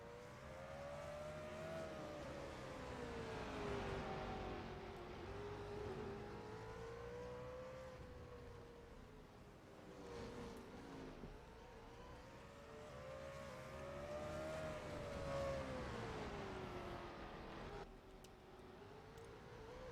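Race cars lapping a racetrack, engines rising and falling in pitch as they accelerate and pass in repeated waves, a continuous loud roar with no talking.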